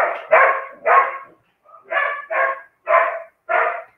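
Several dogs bark in short, loud bursts outdoors along a street, about seven barks in uneven pairs and singles, close by with silence between them.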